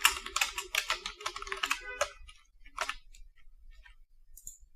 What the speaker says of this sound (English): You can type your caption too for this audio.